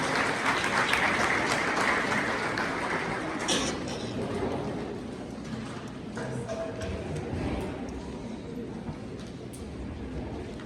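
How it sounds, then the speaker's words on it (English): A crowd at a school's official opening ceremony applauds steadily to welcome the board chairperson, a dense, sustained clapping that fills the whole stretch and tapers only slightly toward the end. "Mr. Diamond, a round of applause is coming."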